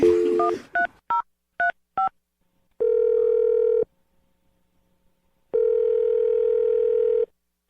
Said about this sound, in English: Let's just dial the phone number.